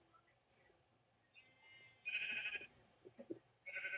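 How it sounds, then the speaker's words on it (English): Video game sheep bleat in a few drawn-out, nasal calls, fairly close, with quiet gaps and soft background noise between them. "the other thing we have in Humburg is a lot of colorful sheep"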